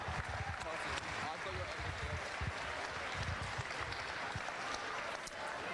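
An audience at a women's league grand final presentation applauds, a soft, steady, distant patter of clapping that holds throughout with some voices mixed in.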